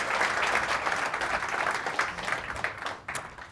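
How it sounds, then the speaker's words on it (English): Warm audience applause at a debate event marking a press association's centenary, a dense wash of many hands clapping steadily and then tapering slightly near the end. "May I have a warm applause"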